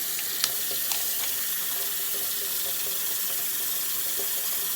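Steady stream of tap water running into a sink while a paint brush is rinsed, close and continuous with a few faint clicks and knocks, no talking.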